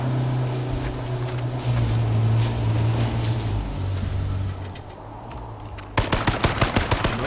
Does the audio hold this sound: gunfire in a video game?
yes